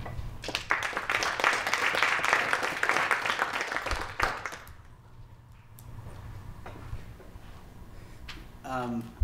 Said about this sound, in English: So let us give a warm round of applause to Noel and Brian.